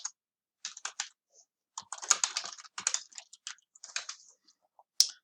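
Quick bursts of typing on a computer keyboard while entering a presentation title, with irregular clusters of key clicks, close and fairly quiet, with no talking.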